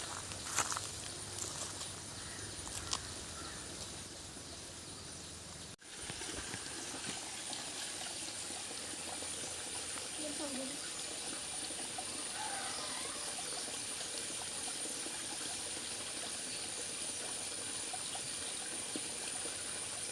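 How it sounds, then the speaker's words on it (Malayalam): Water in a village stream trickles and flows steadily, close by and fairly soft, with a broad continuous wash and a few faint knocks near the start and one brief dropout. "ഇതാണ് നമ്മുടെ തോട്"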